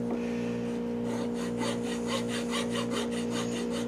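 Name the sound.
hand file filing a wooden pinewood derby car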